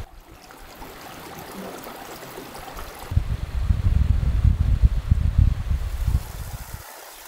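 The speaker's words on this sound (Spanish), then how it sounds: "por acá corre el agua que viene desde las montañas" Water from the mountains runs through a stone passage in a desert canyon, starting as a soft trickle and then swelling into a loud, rushing flow with wind buffeting the mic.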